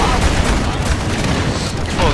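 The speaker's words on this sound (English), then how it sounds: "the shotgun fires quite quickly" Loud, dense gunfire and explosions in the video game Evolve during a hunter fight, with rapid shotgun blasts blurring into a continuous roar close up.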